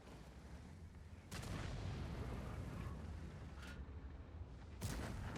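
Tank cannon shots in World of Tanks from a Vercingetorix tank, three booming blasts spaced a couple of seconds apart over a steady engine rumble, fairly quiet overall.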